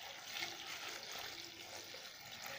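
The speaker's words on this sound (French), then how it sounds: "Vous allez ajouter de l'eau dessus, suffisamment" Water pours steadily into a bath mixture, a continuous close splashing rush that stays even throughout with no voices.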